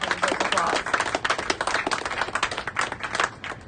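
An audience at a fundraiser celebration claps briefly, brisk close applause with individual hand claps standing out.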